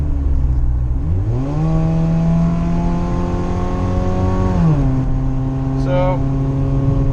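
A 2.2-litre car engine idles, then revs up smoothly and holds before dropping back, through a fairly mellow Dynomax by Walker muffler heard up close; a brief high chirp near the end.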